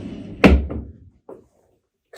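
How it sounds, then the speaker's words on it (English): One of the dual sliding rear doors on a refrigerated 3 ft bakery display case moves with a sharp thunk and a short rolling slide, then a softer knock follows, with quiet between them. "back of the bakery case, dual slide doors."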